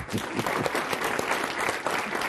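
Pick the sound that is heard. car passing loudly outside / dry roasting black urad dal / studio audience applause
studio audience applause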